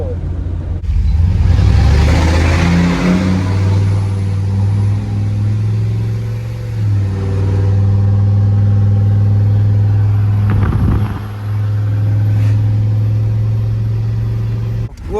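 A 34-year-old truck, towing about 6,000 pounds, cruises at 75 up a hill. Its engine gives a loud, steady drone with a deep low hum and road rumble throughout, and the load shifts with a brief rattle near the end.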